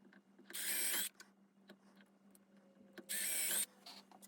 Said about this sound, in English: I then drilled the holes where I'd marked